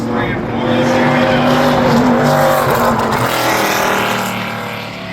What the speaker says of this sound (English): ever qualifying attempt for Michael Clayton in that number 5 automobile. Way up the racetrack there in turns 3 and 4.